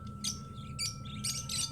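Parakeets calling inside an aviary, with several sharp chirps and squawks repeating at short intervals over a steady low hum, fairly close and clear.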